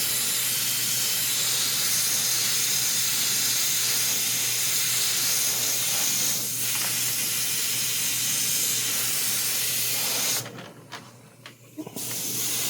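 Spray paint hisses steadily onto a quarter-scale Old Man He-Man sculpture in a long continuous burst, then the spray cuts off and sputters in short bursts near the end.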